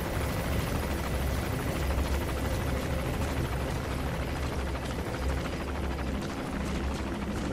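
Helicopter in the video game Metal Gear Solid 5: The Phantom Pain, a steady, loud rotor thrum and engine drone that holds constant throughout without any talk over it.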